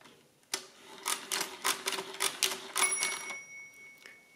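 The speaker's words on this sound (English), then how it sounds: "if I now start the division with 113, the counter will automatically start counting subtractions." A Precisa 117 mechanical calculator works through a division, giving a run of sharp, rhythmic mechanical clacks and ratcheting strokes, close and loud, ending with a brief bell-like ring before the clatter stops.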